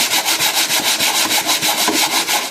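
A sanding sponge rubs back and forth over a painted wooden cabinet in quick, regular strokes, a close, loud rhythmic scratchy swish with no talk.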